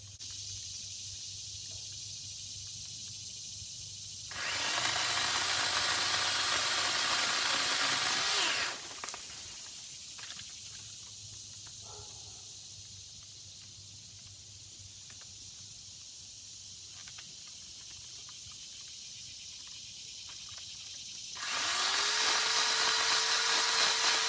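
A Harbor Freight powered pole saw whines and buzzes through wood in two loud bursts, separated by a quieter stretch of low idling hum.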